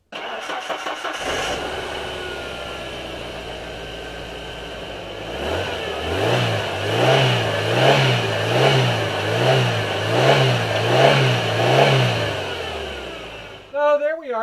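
A Ford Ranger's 2.3L engine cranks and catches after an ignition module replacement, then settles into a steady idle with rhythmic pulsing surges, loud and close, before cutting off at the end.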